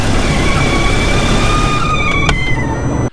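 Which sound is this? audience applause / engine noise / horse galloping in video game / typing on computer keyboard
engine noise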